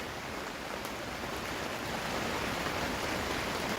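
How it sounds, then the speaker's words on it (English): Rain falls steadily on a vintage canvas tent during a backyard rainstorm. The hiss is dense and even, close and moderately soft, with no voices. "The rain has been on and off."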